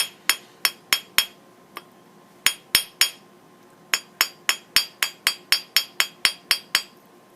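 Sharp metallic hammer strikes flatten a brooch wire on a hard block, loud and close, in uneven bursts of two to four blows, then a steady run of about a dozen quick even hits.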